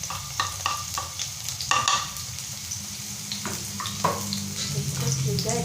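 Crushed garlic-onion spice paste hits 2–3 spoonfuls of hot oil in a pan, giving a steady sizzle with scraping stir strokes; some speech mixed in under the frying.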